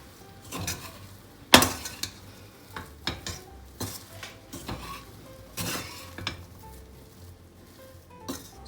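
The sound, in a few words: mixing soya veg stick mixture with flours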